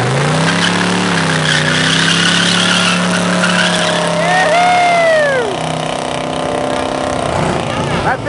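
Engine of a 1970 Chevelle SS with a big-block V8 revving at a muscle car show, loud and continuous throughout with a crowd clamor, plus a sharp rising squeal in the middle.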